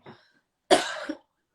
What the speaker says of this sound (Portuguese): vou finalizar com uma tosse